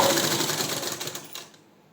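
A sewing machine runs a fast, steady stitching whir while sewing thread piping along a neckline, close and fairly quiet, then slows and stops near the end.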